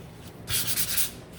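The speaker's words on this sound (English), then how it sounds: "then just give it a sand" Sandpaper rubs across a painted wooden pumpkin barn in one short, close scratchy burst of a few quick back-and-forth strokes, set against a quiet background.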